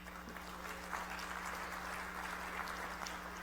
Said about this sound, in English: One more round of applause for Bill.